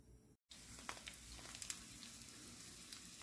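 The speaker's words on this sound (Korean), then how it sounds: "지글지글 거리고 있어." Round pumpkin pancakes fry in hot grapeseed oil in a pan, giving a faint, steady sizzle with scattered small crackles and pops throughout.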